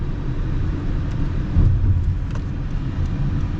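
A 2024 Honda CR-V Hybrid on the move, heard as a steady low road rumble and tyre drone from inside the cabin, swelling slightly midway, with no talk.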